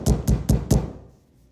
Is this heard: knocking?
yes